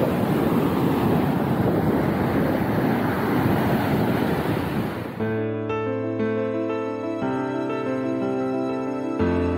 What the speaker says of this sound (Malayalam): നല്ല തിരയുണ്ട് ഇവിടെ.